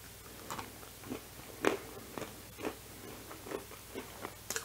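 Crisp bites and chewing on a crunchy baked vegan cookie dough cookie, made without oil, close and quiet, several separate crunches spaced through the clip with no talking.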